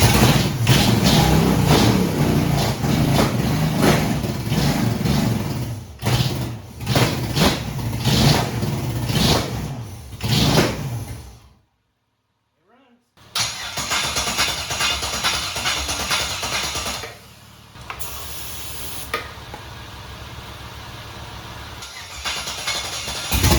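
An LS-swapped car engine cranks and fires, running rough and revving near the mic, cuts out briefly into silence, then restarts and settles into a steady, loud idle.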